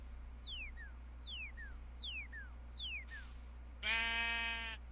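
A sheep bleats once in a modded Minecraft-style survival game, a loud, buzzing bleat near the end after a series of four falling chirp-like tones over a low steady hum.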